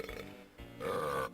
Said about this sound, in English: we get to listen to the belching Kremlings again